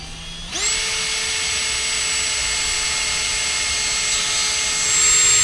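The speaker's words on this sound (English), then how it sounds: "I hate drilling holes." A power drill drilling holes to install windlass foot switches on a boat spins up abruptly and holds a steady high whine, growing slightly louder toward the end.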